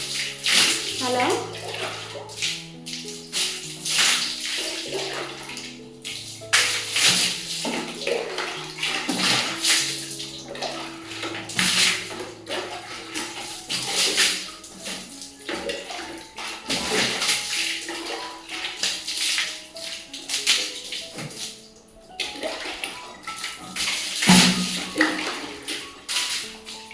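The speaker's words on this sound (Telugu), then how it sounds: "ఫస్ట్ ఫ్లోర్ అంతా వాటర్ పోసేస్తున్నా అండి. ఇలా వాల్స్ కూడా పోసేస్తాను ఒకటేసారి." Water is splashed over a bathroom floor and walls during cleaning, repeated pouring and splashing bursts at close range, interspersed with a person talking.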